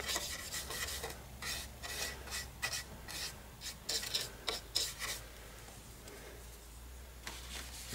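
A model train truck terminal building is weathered by hand. Close, soft rasping rubs come in uneven bursts for several seconds, then trail off into quiet.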